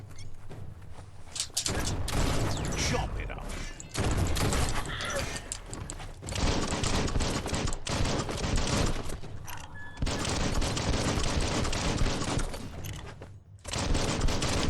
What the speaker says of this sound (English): I'm literally just destroying people with my guns.